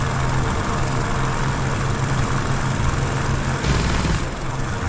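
Steady droning of the twin engines of a Bf 110 C-6 heavy fighter in War Thunder, a loud, continuous throbbing hum with a low pulsing tone that holds unchanged throughout, with no voices.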